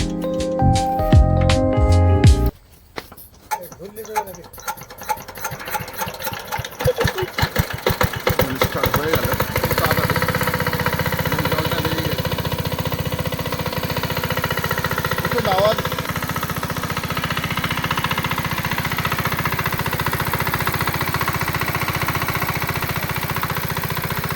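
A shallow tube-well water pump engine is cranked by hand with a handle bar, coughing through a few uneven strokes before it catches. It then settles into a steady, close, chugging run.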